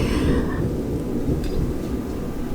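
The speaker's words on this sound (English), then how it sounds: "I love the thunder." Low, steady rumble of thunder rolling continuously with a faint wash of rain, distant and dull, heard indoors with no talking.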